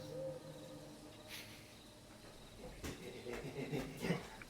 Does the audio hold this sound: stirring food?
no